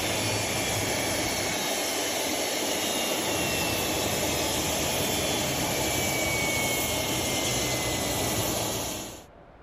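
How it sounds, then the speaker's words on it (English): A Challenger 650 business jet's engines in the X-Plane 12 flight simulator give a loud, steady whining roar with hiss. It runs unbroken, then cuts off abruptly into silence in the last moments as the engines shut down. "Engine 2 shut down. Engine 1 shut down."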